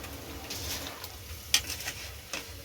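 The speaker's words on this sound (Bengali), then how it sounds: "আর ওইদিকে কড়াই কিন্তু ভাজা হচ্ছে।" Rice is stir-fried in a hot kadai for fried rice, giving a soft, steady sizzle with scraping stirs. A sharp metallic clink lands midway and lighter scrapes follow, all fairly quiet and close.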